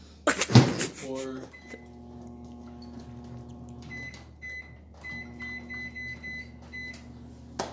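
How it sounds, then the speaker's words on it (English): A microwave oven hums steadily with a low drone on high at 900 watts after a door clunk and beeps, its faint whir running on throughout. "And then we pop it in the microwave, the hot box, if you will,"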